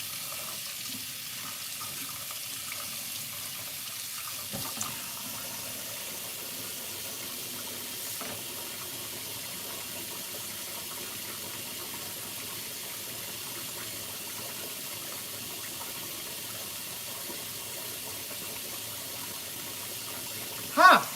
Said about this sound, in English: I got to run it under warm water.